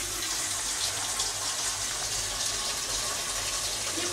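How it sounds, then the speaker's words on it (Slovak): Water runs steadily from a kitchen tap, a continuous close hiss and splash that never lets up. "Nepúšťaj toľko vody, na čo?"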